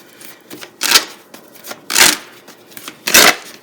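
A deck of tarot cards being shuffled by hand, with three loud riffling bursts at roughly one-second intervals and softer card handling in between.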